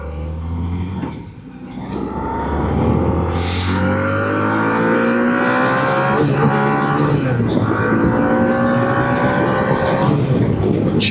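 A motorcycle accelerates hard to about 9,000 RPM, with its engine note climbing steadily in pitch through gear changes, loud and close as heard from a helmet-mounted microphone, and steady wind rush underneath.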